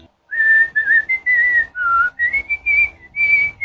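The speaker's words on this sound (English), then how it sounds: "kung i-whistle natin yung melody ng Lupang Hinirang, like this." A whistled rendition of the melody of the Philippine national anthem Lupang Hinirang, a single clear line of sustained notes in short phrases with brief breaks between them, heard alone and close.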